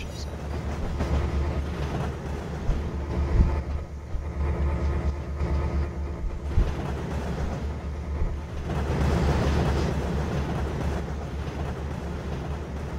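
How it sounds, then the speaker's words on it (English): A train in the Train Simulator 2012 game rumbles past with a steady, low, heavy roar that swells louder toward the end. "So about 3 minutes until the AI train shows up."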